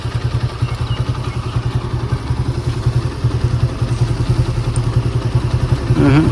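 A motorcycle engine thumps in a fast, steady rhythm, loud and close as the bike rides along, with a faint clatter over it.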